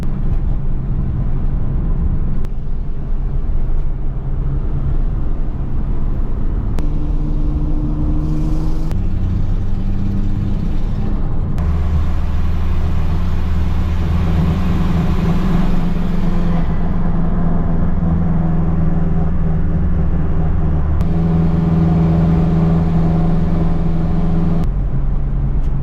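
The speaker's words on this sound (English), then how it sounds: "Well, that was a fun little ride in the 240" A Nissan 240 drives along with a loud, steady engine drone from inside the car, the pitch stepping up and down through gear changes with no talking.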